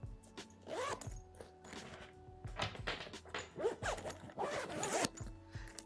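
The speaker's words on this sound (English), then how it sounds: "There's an additional zippered pocket on the inside here." Zippers on a Travelpro Altitude business briefcase opening an inside pocket: several close, quiet rasping zip pulls in short bursts, with soft handling thumps between them.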